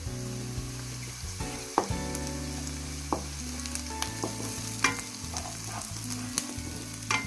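Crushed garlic fries in a pan with a soft, continuous sizzle, broken by a few sharp clicks and scrapes of a utensil, quiet and close, with no talking.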